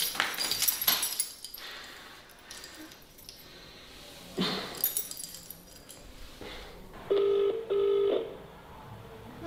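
A telephone is dialed to call someone. Clicks and clinks come first, then a few dialing beeps, and at the end two steady tones sound in quick succession, loud and close, with no talk.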